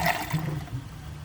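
A WaterRidge one-piece toilet flushing, a short rush of water swirling down the bowl, fairly quiet and fading within about a second, with no voices.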